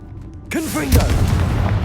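A Confringo blast spell bursts in Hogwarts Legacy on PS5, a sudden loud boom about halfway through with a swooping whoosh, then a rumbling roar that lingers under the game's ambience.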